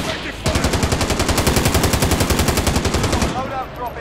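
Rapid automatic gunfire in a battle royale video game, a loud, close, sustained burst of evenly spaced shots lasting about three seconds before cutting off.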